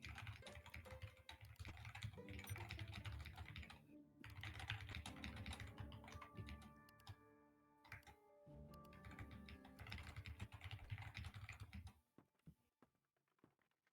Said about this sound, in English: I can hear you furiously typing.